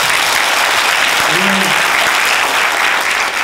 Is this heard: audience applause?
yes